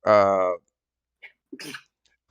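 A single sharp, voiced sneeze bursts out close by, followed by a pause and a few soft, scattered sounds.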